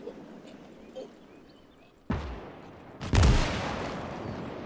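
Gunfire in the World War II game Gates of Hell, where a Maxim machine gun is in action: a quiet stretch, then two loud bursts of shots with a heavy booming onset, close and without talking.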